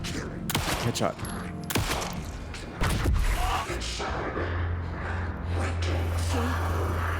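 Gunshots in the Alan Wake 2 video game ring out as several sharp, loud cracks and thumps spread across the first few seconds, followed by a low droning game ambience, with a person speaking in between.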